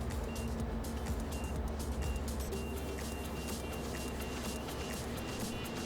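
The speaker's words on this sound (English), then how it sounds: "So this is the stall alarm." Stall alarm of an Elixir aircraft in flight: a steady electronic tone with repeated higher beeps, sounding over the constant loud drone of the engine and the airflow.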